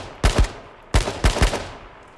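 Gunfire in the battle royale game H1Z1: King of the Kill, two close pairs of sharp, loud shots with a brief pause between them and a fading tail.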